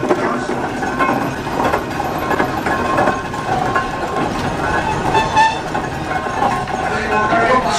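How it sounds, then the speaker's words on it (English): A steam train with a single-cylinder blowing engine at a steam and country fair, chuffing steadily amid a dense, noisy outdoor crowd with occasional whistle-like toots. "Train with a single cylinder blowing engine now."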